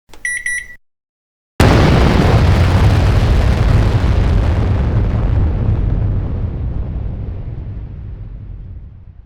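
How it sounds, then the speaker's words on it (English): A bridge explodes in a scripted drama: a short beeping tone, a moment of silence, then a sudden massive blast whose deep rumbling roar slowly fades over several seconds. "The bridge explodes."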